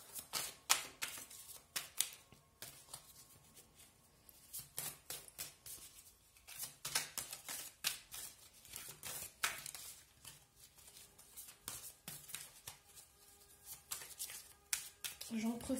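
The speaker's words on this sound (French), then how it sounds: "Et moi je vais battre les cartes." Oracle cards being shuffled by hand in a quiet room, a steady run of crisp, close riffling and flicking bursts with brief pauses between handfuls.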